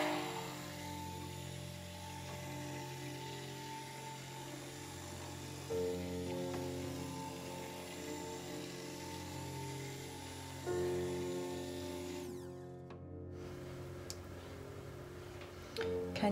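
A stick blender whizzes through bourbon soap batter in a steady motorized drone that surges twice, then cuts off near the end before a brief restart.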